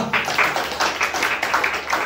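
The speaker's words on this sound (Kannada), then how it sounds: "ಚಪ್ಪಾಳೆ ಹೊಡೆಯೋಣವಾ?" A church congregation claps together in a quick, even rhythm, the dense hand claps filling the whole stretch at moderate loudness over a faint background hum.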